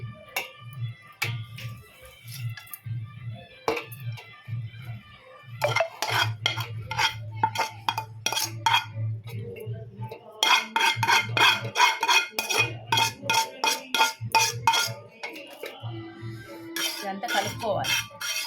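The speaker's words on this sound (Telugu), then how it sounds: "ఇదంతా ఒకసారి కలిపేద్దాం" Repeated clinks and scrapes of a spoon against a metal vessel while mixing rice with tempering and raw mango, in bursts of rhythmic stirring, with occasional softer pauses between rounds.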